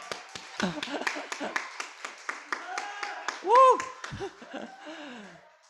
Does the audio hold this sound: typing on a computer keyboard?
no